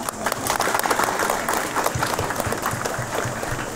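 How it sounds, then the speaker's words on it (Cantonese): An audience applauding at a temple ceremony for the renovation of Hip Tin Kung Kwan Tai temple in Nam Chung, dense steady clapping from a crowd lasting throughout, fairly loud with no clear speech. "我哋俾啲掌聲好嘛？"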